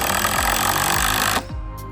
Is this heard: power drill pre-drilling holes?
yes